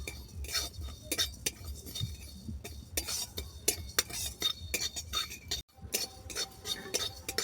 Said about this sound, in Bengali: মশলাগুলো আমি এক মিনিট ধরে ড্রাই রোস্ট করে নেব